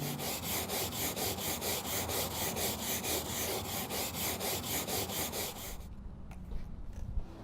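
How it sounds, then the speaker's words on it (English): A stainless steel wire brush scrubs back and forth across scratched decking boards, making rapid, regular rasping strokes close by for about six seconds before stopping, followed by faint handling sounds. "Get yourself a stainless steel wire brush."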